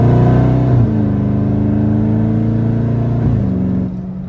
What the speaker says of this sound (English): Let you guys hear the downshifts.